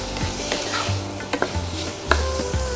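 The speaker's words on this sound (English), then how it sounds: "Now we'll mix this up nicely." Vada kari spice mixture being stirred in a pan, with a steady sizzle of frying underneath and a few sharp clinks of the spoon against the metal pan.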